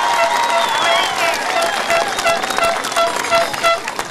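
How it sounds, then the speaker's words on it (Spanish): Crowd applause and cheering at an official public event in Villa María del Triunfo, a loud, dense wash of clapping with voices mixed in, continuing steadily throughout. "a quien recibimos con muy fuertes palmas"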